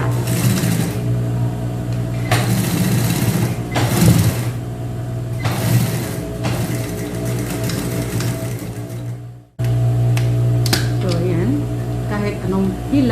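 Sewing machine stitching flat garter square pants, a steady mechanical whir running in repeated bursts with a brief pause near the end, loud and close with a constant low motor hum.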